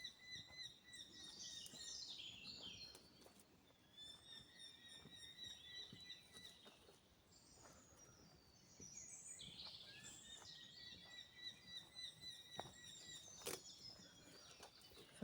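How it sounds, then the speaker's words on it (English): A small bird in a chilly woodland gives a series of thin, very high-pitched calls, repeated in short bursts over quiet background hiss, fairly faint and distant, with no talking. "There's a bird call I can't recognise."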